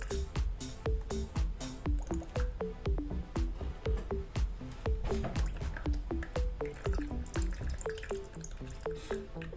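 Fuel draining from the carburettor of a Yamaha FZS600 motorcycle, a steady run of close drips and small liquid splashes falling in a quick irregular rhythm over a faint background hiss.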